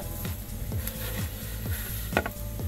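Raw vermicelli roasting in ghee in a pan gives a steady, close sizzle, with intermittent scraping clicks from stirring and one sharper clatter near the end.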